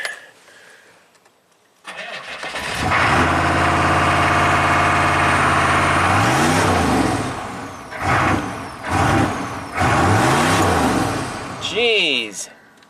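A Chevy 6.5 turbo diesel engine cranks and starts, then idles and revs up and down in repeated surges during throttle diagnosis with a swapped module, loud and close, and a voice talks near the end.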